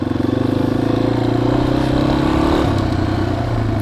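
A Yamaha XT250 motorcycle engine struggling to idle runs with a steady, rapid thumping pulse, its pitch sagging and shifting partway through as if about to stall, loud and close with no talk over it.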